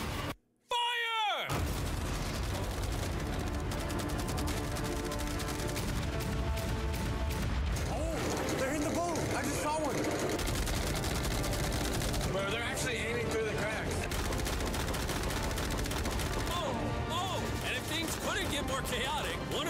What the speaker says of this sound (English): On top of all these machine guns, we have 100 cannons, a giant mine, the equivalent of all 15 from earlier, all of the fireworks, arrows, and catapults